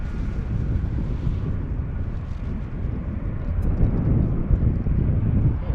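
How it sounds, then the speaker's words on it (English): Roaring jet blast from a departing airliner at Gravelly Point beside Washington National Airport, a loud, broad, rumbling wash of engine noise and wind buffeting the microphone that holds steady and swells slightly toward the end. "Felt the jet blast from that one."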